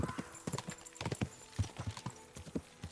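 Horse hooves galloping in Kingdom Come: Deliverance II, a fast repeating clip-clop of strikes, close and steady, with faint sound in the background.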